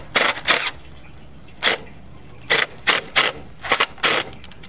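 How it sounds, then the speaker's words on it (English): A screwdriver drives screws through wooden boards into an outdoor patio frame on a concrete pad, heard as short separate bursts of whirring in an irregular rhythm with quiet pauses between them. "Here we're screwing in one of the end frames here,"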